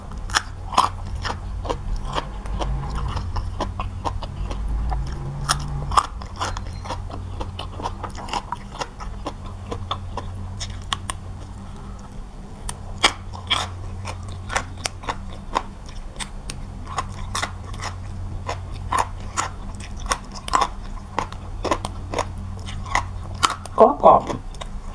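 Crunchy raw vegetables such as eggplant bitten and chewed alongside Thai shrimp-paste chili dip, grilled mackerel, and jasmine rice, giving repeated close crisp crunches and bites throughout, with occasional talk.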